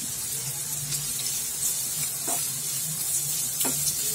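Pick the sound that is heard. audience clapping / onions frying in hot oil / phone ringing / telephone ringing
onions frying in hot oil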